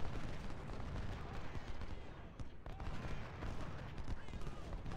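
Musket volleys and cannon fire roll continuously in Ultimate General: Civil War at the Battle of Fredericksburg, a dense, noisy, distant crackle of massed gunfire with a faint voice underneath.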